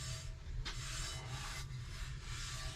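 A cloth or paper towel rubbing excess oil off a Lodge cast iron skillet, soft rhythmic wiping strokes close up, quiet and steady with no talking.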